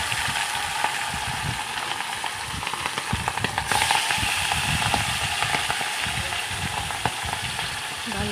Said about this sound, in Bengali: কড়াইয়ে তেল দিয়ে তেলগুলো গরম হয়ে গেছে এখন আমি মাছগুলো করে তেলে ছেড়ে দেবো